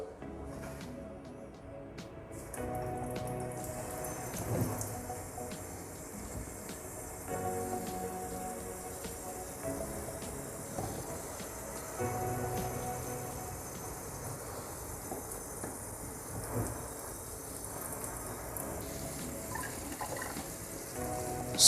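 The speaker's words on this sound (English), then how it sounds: "I'm just going to give them some water." Water pours onto potted philodendrons and into their potting medium and moss pole, a steady, close splashing and trickling stream that runs for a long stretch with no talk.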